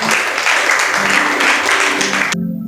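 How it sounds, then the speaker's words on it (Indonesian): A church congregation applauds loudly and steadily during an Indonesian sermon; the dense clapping fills about two and a half seconds, then cuts off abruptly. "Tepuk tangan buat Tuhan."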